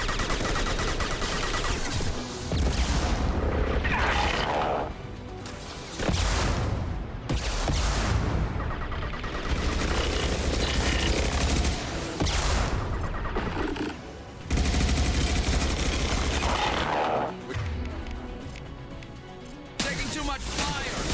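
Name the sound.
gunfire in Mass Effect 2 video game battle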